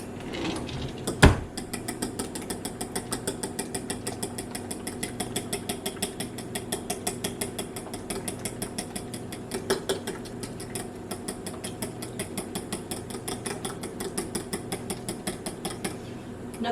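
Banana bread batter being mixed, likely with an electric mixer, giving a steady close mechanical whirring rattle with a rapid repetitive ticking texture that runs continuously, with one sharp knock near the start.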